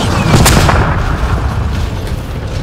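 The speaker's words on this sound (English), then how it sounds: "They're dropping mortars now?" Mortar rounds explode in Mass Effect: Andromeda, heavy booming blasts with sharp cracks about half a second apart amid a loud, continuous battle rumble.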